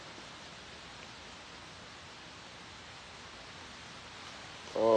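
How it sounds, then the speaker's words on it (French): Rain falls as a steady, even hiss with no variation. A brief sharper sound breaks in at the very end. "vous entendez le son de la pluie qui tombe."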